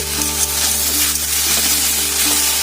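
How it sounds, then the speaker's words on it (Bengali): Okra and onions fry in a pan with a steady, close sizzle that never lets up, over a constant low electrical hum. No one speaks. "ঢেঁড়স পেঁয়াজ ভাজা পুরো ডান হয়ে গেছে"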